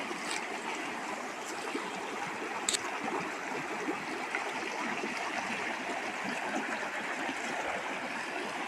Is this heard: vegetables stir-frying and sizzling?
no